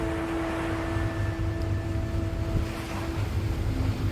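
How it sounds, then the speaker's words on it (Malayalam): A cargo ship leaving its berth at Vizhinjam sea port, Trivandrum, its engine giving a steady low rumble with sustained tonal hums, under wind and sea noise, continuous and moderately close. "ഷിപ്പ് ഇപ്പോൾ ഉള്ളത് എഞ്ചിൻ സ്റ്റാർട്ടിംഗ് മോഡിൽ തന്നെയാണ്"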